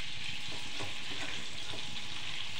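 Capsicum fries in a pan with paste while being stirred, a loud, steady, close sizzle with faint rhythmic scrapes from the stirring underneath, no voices.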